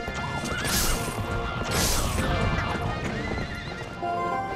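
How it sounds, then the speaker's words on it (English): In The Legend of Zelda: Twilight Princess, a horse startled by bombs gallops with rapid clip-clopping hooves and lets out loud whinnies, close and continuous over game ambience. "Horse is running in circles. Looks like it's startled by the bombs."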